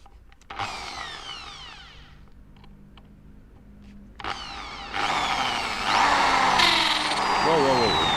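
A power drill bores into a seized bolt on a SAMRO harvester, starting in short bursts with sweeping pitch, then running loud and sustained with whining squeals as the bit chatters against the metal.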